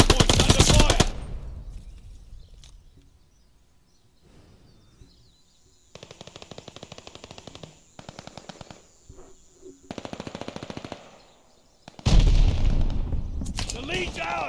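Gunfire around a hardpoint in the shooter Modern Warfare 2: a loud blast opens, followed by several rapid automatic bursts from close range with quieter gaps between them, then a final heavy burst; a voice talks under the fighting.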